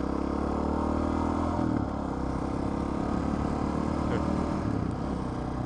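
Street motorcycle ridden on paved Tennessee roads, a steady engine drone with rushing wind noise filling the whole stretch, no clear gear changes, heard from the rider's position.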